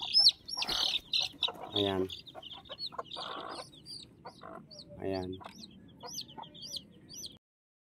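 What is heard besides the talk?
hen clucking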